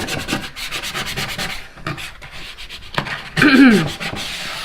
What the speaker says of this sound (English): a credit card will work just as well. You're just going to take it and kind of rub.